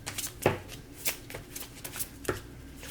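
Tarot cards are shuffled and pulled by hand, giving close, crisp riffling bursts and light slaps at an irregular rhythm, with no one talking.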